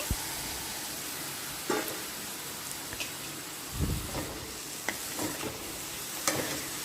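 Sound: brinjal pieces added to fried onions, sizzling and stirring

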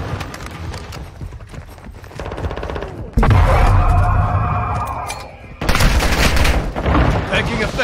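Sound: gunfire from video game Call of Duty: Modern Warfare II

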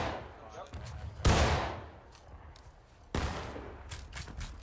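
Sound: musket volley from video game War of Rights

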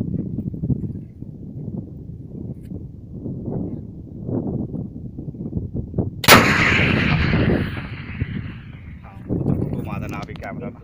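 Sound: 84mm Carl Gustaf recoilless rifle firing

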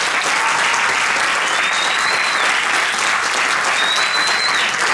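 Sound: audience applause

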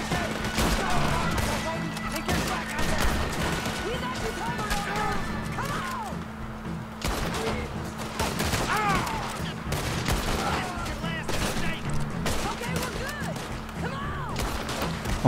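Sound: gunfire in the video game Red Dead Redemption 2

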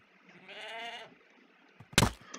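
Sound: goat bleating and ramming in Minecraft video game

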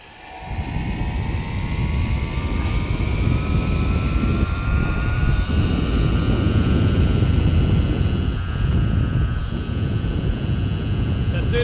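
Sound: electric bike motor at full throttle

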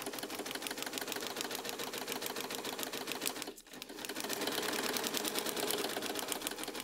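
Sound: sewing machine stitching a quilt block

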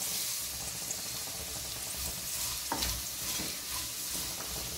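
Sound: poha added to fried vegetables in a pan

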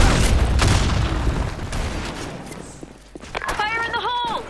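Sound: grenade explosion in video game BlackShot

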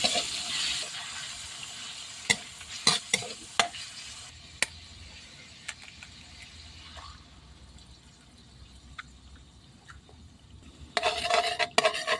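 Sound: minced pork stir-frying in a pan

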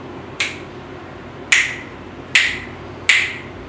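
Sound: finger snapping

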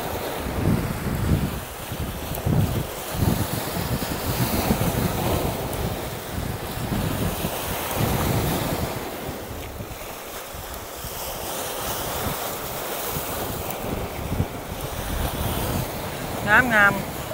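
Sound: strong wind and sea waves on a beach

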